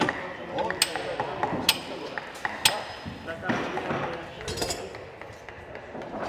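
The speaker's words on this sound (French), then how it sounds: "les premiers coups de marteau, les premiers traits de scie se faisaient entendre." Hammer blows ring out in a shipyard where a wooden ship is being rebuilt, a handful of sharp, scattered metallic strikes at medium distance over a busy background, with a voice speaking over it.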